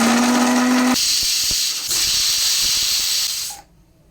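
Pressure cooker on a stove letting out a long, loud, steady steam whistle that cuts off after about a second, followed by hissing steam and clattering before fading to quiet.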